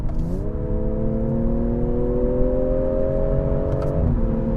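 A BMW M340i xDrive performance sedan engine revs in a loud, steady climb, rising in pitch for about four seconds before dropping back, with constant road and cabin rumble underneath.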